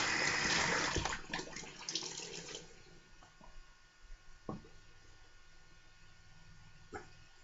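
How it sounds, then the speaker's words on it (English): Cold tap water runs to rinse a razor blade, a loud rushing splash at first that fades out within a couple of seconds, followed by a few faint clinks and knocks in a quiet room. "Cold water rinse."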